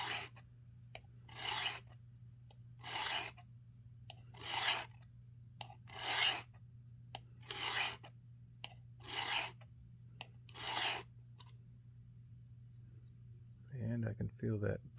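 Blade drawn across the abrasive of a Work Sharp guided sharpening system: nine or ten evenly spaced scraping strokes, close and moderately loud over a low steady hum, with a voice speaking briefly at the end.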